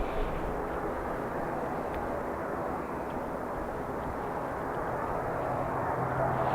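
An airliner landing in a crosswind at Dublin Airport gives a broad, steady jet roar that stays constant, loud and fairly distant throughout, with no talk.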